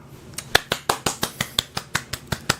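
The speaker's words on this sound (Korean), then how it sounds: "박수 왜 칩니까?" Several people clapping in a studio discussion show, about a dozen sharp, distinct claps in a fairly steady rhythm, close and alone without talk.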